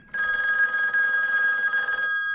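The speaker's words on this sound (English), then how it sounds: "played by the droning ring of the rotary phone" Old rotary telephone bell ringing in a continuous, droning metallic trill for about two seconds, loud and close, with no voices.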